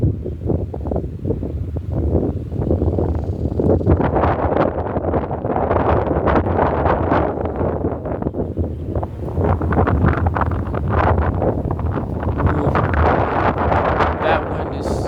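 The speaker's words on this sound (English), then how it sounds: "That wind is really starting to hit." Strong gusts buffet the microphone in a dense, continuous roar and rumble that barely lets up, with a voice partly buried beneath it.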